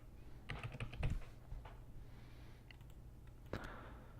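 Keys on a computer keyboard clatter in a short burst of quick clicks, fairly close but soft, with a hum underneath and a single louder tap toward the end while setting up an AutoCAD workspace.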